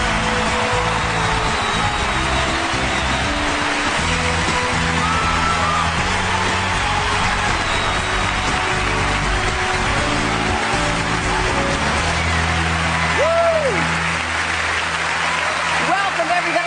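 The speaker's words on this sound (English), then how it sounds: "This is a very rowdy crowd." A rowdy crowd at the Miss USA 2004 pageant cheers, whoops and yells in a loud, continuous roar with applause mixed in, while voices carry over the din.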